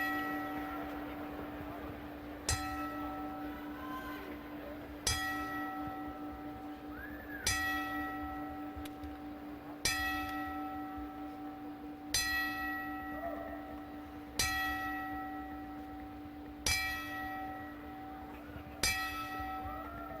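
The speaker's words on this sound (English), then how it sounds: "at this time, we will have our 10-bell tribute in memory of the great heavyweight contender, Jerry Quarry." At a boxing ring, a ten-bell tribute rings out as a slow, evenly spaced series of single bell strikes, each ringing clearly and decaying before the next.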